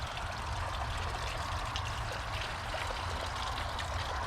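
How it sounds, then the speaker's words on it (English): Water runs in a garden water feature stream, a continuous soft trickle and rush at low, even volume with no voices. "Super beneficial to have a water feature in your garden."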